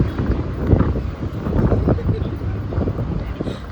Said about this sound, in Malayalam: ഇതാണ് ദുബായിലെ കാറ്റ് ഗൈസ്